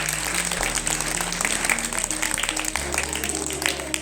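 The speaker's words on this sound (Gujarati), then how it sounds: "તો આપણે તેને તાળીઓના ગડગડાટ સાથે વધાવી" Applause from an audience at a Gujarati tuition group's cultural event, a steady wash of hand clapping sustained for several seconds with a low musical drone underneath.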